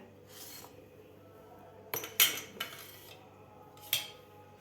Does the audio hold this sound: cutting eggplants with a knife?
yes